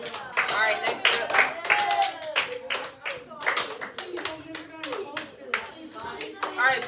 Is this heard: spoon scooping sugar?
no